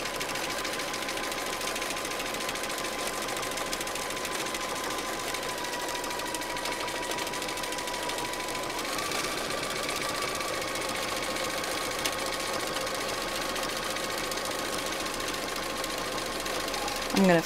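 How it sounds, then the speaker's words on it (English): A sewing machine runs continuously during free-motion quilting, a close, steady mechanical whirr and rapid stitching buzz that holds with slight shifts in pitch throughout. "I'm going to take a couple of stitches in place to secure those threads"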